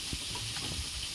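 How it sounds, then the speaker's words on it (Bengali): Pointed gourd (potol) frying in a pan of oil for a home puja offering: a steady, close sizzling hiss runs throughout, with faint scattered crackles and no voices. "এখন পটল ভাজা হচ্ছে"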